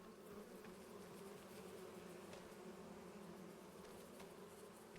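Bees on a video game farm that naturally produce honey give a steady, continuous insect buzz with no talk, holding at a constant level throughout.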